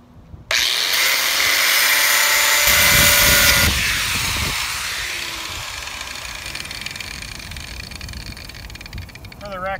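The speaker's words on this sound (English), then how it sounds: "Ah, well, that little cut wheel doesn't do too bad." A small cutoff wheel on a power tool cuts through a pipe for a hoop house, starting abruptly with a loud, high grinding whine that holds for a few seconds before the tool spins down with a fading, lower buzz.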